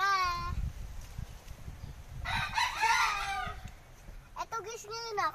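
A rooster crows loudly, then crows again a few seconds later, over background chatter and farmyard noise.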